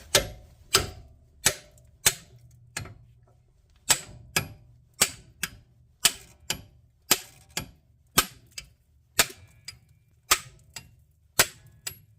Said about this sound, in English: the other end I'm going to hit it with a hammer